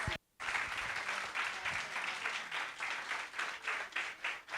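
An audience gives a strong round of applause for an award recipient at an education event, a dense, steady clapping close by after a brief silent gap, with slight swells.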